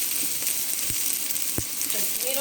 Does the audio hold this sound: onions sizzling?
yes